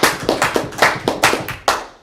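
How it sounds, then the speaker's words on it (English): A small group gives a quick round of applause at a live streamed talk, with sharp, close, uneven claps over about two seconds. "let's give you a round of applause"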